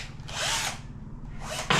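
A power drill whines as it bores a hole through a 200-litre plastic water tank, two close, loud bursts of drilling separated by a short lull.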